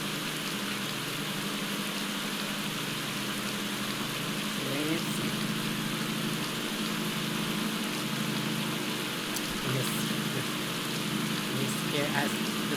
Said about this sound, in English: The rainy weather is going to take a toll.